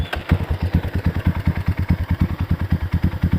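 A 270 cc Herex-spec trail motorcycle engine idles close by with a loud, even, rhythmic thumping pulse that repeats steadily throughout.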